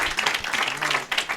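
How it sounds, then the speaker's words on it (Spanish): Brief, close audience applause at a lecture event, a short burst of mixed clapping with no talk over it. "Le damos un aplauso."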